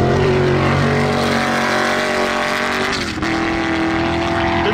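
Loud engine roar from Can-Am Maverick X3 and Polaris RZR side-by-side UTVs racing on sand dunes, a steady high-revving drone with a brief dip in pitch near the end, no talk.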